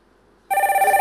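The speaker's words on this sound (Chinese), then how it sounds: "来电话了" A telephone bell suddenly begins ringing halfway through, a loud, steady, rapidly pulsing ring with bright metallic overtones, heard during a stage comedy sketch set in a home being burgled.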